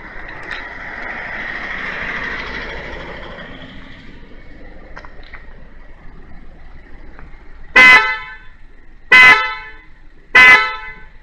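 A Bosch Rally Strada horn fitted to a Suzuki Hustler gives three short, loud, evenly spaced honks near the end, after a quiet stretch of engine and ambient noise.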